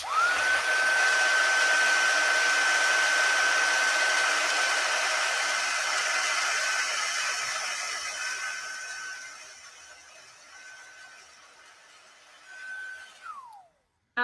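A craft heat tool blows hot air over a stamped card, a loud steady whirring blast with a high whine that gradually fades, cuts in and out near the end, then winds down and stops.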